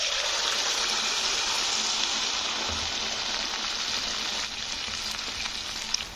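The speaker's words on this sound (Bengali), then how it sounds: "এবারে আমি অল্প অল্প করে ব্যাটারটা দিয়ে ভাজবো" Gur pitha batter, made with semolina, flour and flattened rice, fries in hot oil in a kadai with a steady, dense hiss and crackle that stays loud and unbroken throughout.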